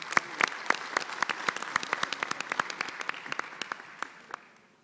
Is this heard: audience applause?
yes